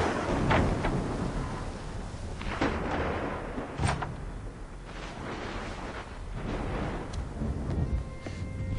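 Thunder rolls through a stormy scene in Assassin's Creed 3, several deep, rumbling booms with sharper cracks at intervals over a steady background of rain-like hiss.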